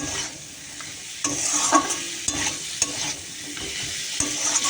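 Potatoes being stir-fried in a pan, giving a steady sizzle with repeated scraping and stirring strokes, close and fairly loud, with no voices.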